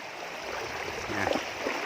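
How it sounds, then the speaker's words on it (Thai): Mun River floodwater pouring over and across a bridge after Storm Noru, a steady, close rushing wash of flowing water with a brief swell of splashing near the middle, no voices. "นี่ครับน้ำไหล"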